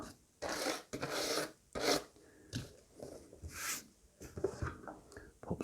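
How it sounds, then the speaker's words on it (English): Soft rubbing and rasping strokes while cleaning off a screwdriver, close and quiet, in uneven short bursts with brief pauses. "So I'm just cleaning off my screwdriver here."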